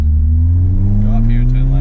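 Toyota KE70 with a 4AGE engine running loud and close, its steady low drone climbing slowly in pitch as the revs build, a voice speaking faintly over it.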